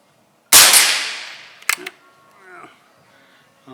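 A single sharp rifle shot rings out during zeroing of a Nikko Stirling Hornet 10-50x60 scope, fading over about a second, followed by a brief metallic click and faint movement sounds in a quiet outdoor setting.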